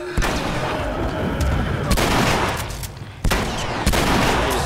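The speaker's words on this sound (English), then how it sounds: "I'm going to throw a Molotov at him." In The Last of Us video game, a thrown Molotov cocktail bursts into fire amid a series of loud, sharp impact booms, several heavy bangs spaced about a second apart over rumbling combat noise.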